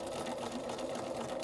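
A sewing machine stitches an invisible zipper into fabric, a steady close mechanical whir and rapid needle chatter running without a break, no voices over it.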